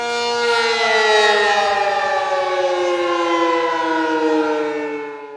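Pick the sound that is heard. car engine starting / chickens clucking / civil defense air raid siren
civil defense air raid siren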